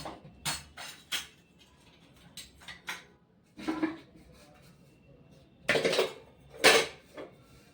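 Steel tiffin boxes, pots and utensils clatter and clank while being washed at a sink, in a series of sharp, bright metallic knocks coming in irregular bursts, loudest toward the end.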